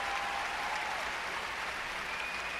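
A large figure skating arena crowd at the World Championships applauds and cheers continuously, a broad roar of clapping and voices heard from a distance, with a faint whistle-like tone rising through it.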